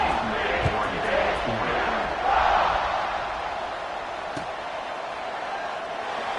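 A football stadium crowd cheers before kickoff, a broad steady roar that swells briefly and runs under a commentator's continuous voice.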